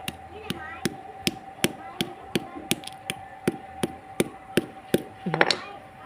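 A stick pounds a rat-trap torch mixture, a steady series of sharp, close thuds at roughly even intervals, with a brief voice near the end.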